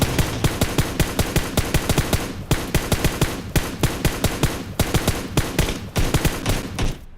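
Sustained full-auto gunfire in rapid bursts, loud and close, with brief pauses between strings of shots while recoil control is shown.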